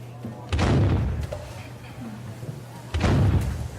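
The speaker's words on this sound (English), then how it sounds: "Another cannon. Another." Cannon-fire sound effect booming through an office of engineers, two heavy deep thuds roughly two and a half seconds apart, loud and close, with a faint murmur in between.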